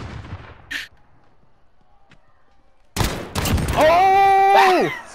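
Desert Eagle pistol shots in a video game: a brief burst early on, then a quiet stretch, followed by loud sharp reports mixed with a rising whistling tone.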